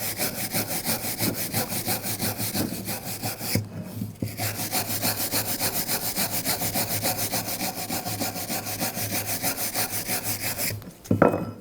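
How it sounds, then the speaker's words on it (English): A wire brush scrubs corrosion off a BMW 535i xDrive rear brake caliper bracket in fast, steady rasping back-and-forth strokes, close and continuous, with two brief pauses. "We'll just use a wire brush. Just clean this up."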